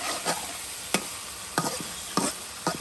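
Eggs with chopped onion are stirred and fried in a pan, a steady sizzle broken by several sharp scrapes of a spoon at irregular intervals, close and clear.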